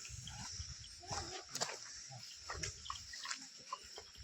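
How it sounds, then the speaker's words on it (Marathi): Dogs arriving in a rural Mahabaleshwar setting make faint, scattered barks or yips over steady outdoor background noise, with no talking. "डॉगी आलेले आहेत"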